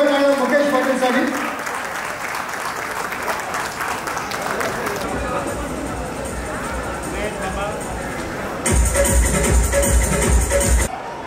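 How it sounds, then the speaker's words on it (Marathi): An audience applauds a contestant at a singing competition prize announcement, a sustained wash of clapping mixed with crowd voices that swells louder near the end. "जोरदार टाळ्या"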